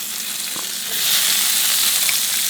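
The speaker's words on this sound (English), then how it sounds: "But we are sauteing, so you do want that nice high heat" Onions and peppers sizzle loudly in a hot cast iron skillet over high heat, a steady hiss of sautéing that swells partway through, with faint stirring scrapes.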